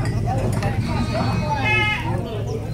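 Jawa Randu breeding-class goat, a large doe with a four-month-old female kid, bleating amid constant talk and farmyard noise, the calls partly blurred into the chatter.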